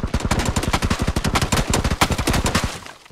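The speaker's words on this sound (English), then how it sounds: "We're still getting shot." Rapid automatic gunfire in a video game rattles close and loud in a dense, continuous burst for about three seconds before cutting off.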